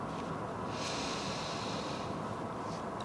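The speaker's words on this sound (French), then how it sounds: "faites 5 respirations ujjayi simples" Slow ujjayi breathing in yoga practice comes as one long, hushed, breathy rush of air close to the microphone, with no voice over it.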